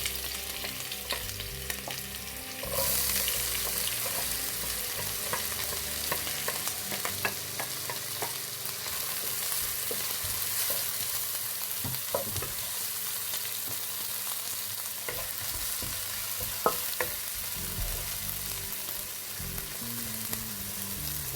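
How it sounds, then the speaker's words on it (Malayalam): Chopped ginger and onion sautéing in hot oil, a steady close hiss and crackle of frying that carries on throughout, with frequent scrapes and taps of stirring against the pan. "ഞാൻ അതിനകത്തോട്ട് അരിഞ്ഞ് വെച്ചേക്കുന്ന ഇഞ്ചിയും ഉള്ളിയും കൂടെ ഇട്ടൊന്ന് വഴറ്റിയെടുക്കാൻ പോവാണ്"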